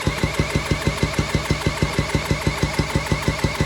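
A Yamaha 225DX Tri-Moto three-wheeler engine cranks over for a compression test, a fast, steady, evenly spaced chugging pulse of the starter turning the motor, loud and close throughout.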